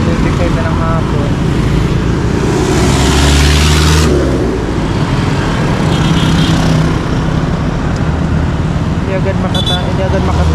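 Busy late-afternoon road traffic with cars and tricycles, engines droning and revving as vehicles pass close by in a loud, continuous stream, with a person talking over it.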